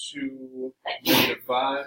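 A single sharp sneeze bursts out in a geometry classroom, loud and brief, between stretches of a teacher speaking.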